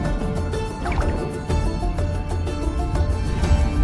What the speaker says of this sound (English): We'll go ahead and swim forward